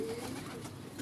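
A pigeon coos briefly and softly at a distance against faint background noise, a single short murmuring call.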